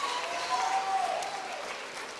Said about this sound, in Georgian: აპლოდისმენტები თუ შეიძლება უფრო მეტი, უფრო მეტი.